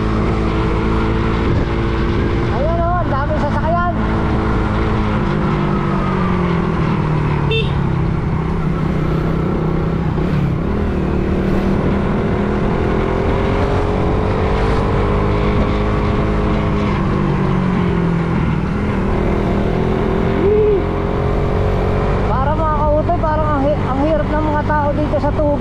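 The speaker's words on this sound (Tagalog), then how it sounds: "Ayan o, ang daming sasakyan." Many vehicles travel a mountain road, a loud continuous engine drone with shifting pitches as they pass close by. A voice talks over the traffic at times.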